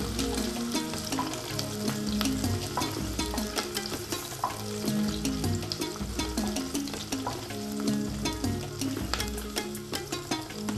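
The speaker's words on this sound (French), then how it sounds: "l'oignon est en train de cuire" Onion frying in a pan for a Cameroonian mushroom egusi soup gives a steady, loud sizzle, with scattered crackles and occasional stirring scrapes throughout and no talk.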